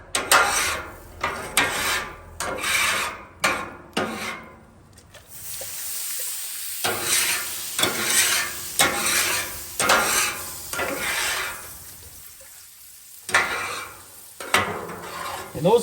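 A metal scraper rasps and clanks across a hot Blackstone griddle with leftover chicken fried rice, in repeated rough strokes that fade into soft sizzling, with short pauses between bursts, close and loud.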